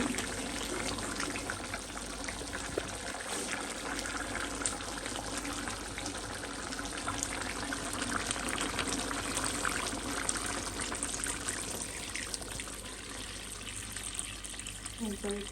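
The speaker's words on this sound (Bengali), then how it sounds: "আমি পরিমাণ মতো পানি দিয়ে দেবো মাংসটা বাকিটা সিদ্ধ হওয়ার জন্য" Water is poured into a cooking meat curry, steady running water pouring and splashing continuously, a broad hiss filling the whole stretch with no pauses.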